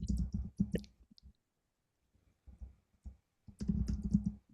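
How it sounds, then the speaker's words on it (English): Typing on a computer keyboard in short, irregular bursts of clicks with silent gaps between them, close to the microphone. "Let's type it in the chat."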